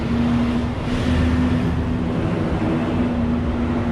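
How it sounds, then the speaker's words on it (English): Loud cars pass by on a road nearby, a continuous rumbling traffic roar with a steady engine drone throughout and no talk. "We'll just have to wait a few seconds for the loud cars to move by."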